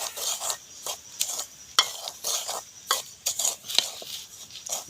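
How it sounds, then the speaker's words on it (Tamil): Semolina (rava) roasting in a hot pan as a spoon stirs it continuously, giving repeated rasping scrapes in an uneven rhythm, close and fairly clear with no talk. "நாங்கள் இனி ரவையை போட்டு வறுப்போம்"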